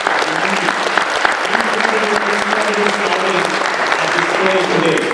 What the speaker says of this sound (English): Big round of applause for these 4 amazing scouts right here.